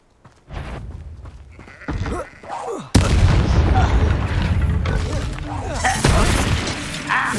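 The Incendio fire spell is cast in the Hogwarts Legacy video game, giving a sudden whooshing, booming burst of flame amid combat effects and spoken lines, with a few more bursts following.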